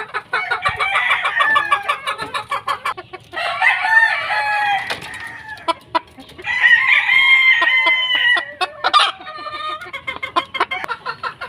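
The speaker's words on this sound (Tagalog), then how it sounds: "Yan, mga dumalaga po sila." Young pullet chickens on a farm clucking and calling in bursts, with crowing-like rooster calls rising over a steady chatter of the flock, fairly close and with no one talking.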